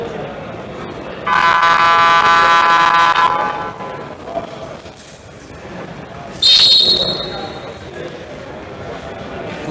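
A referee's whistle at a women's senior first-division basketball game in a college gym, one long loud blast early and a shorter sharp toot later, over crowd noise and a commentator talking.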